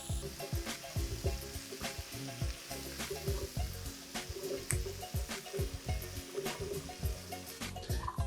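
Carrots stir-frying in a hot pan for sweet and sour chicken, a continuous close sizzle broken by frequent clattering scrapes and knocks of a utensil stirring, with some wet bubbling.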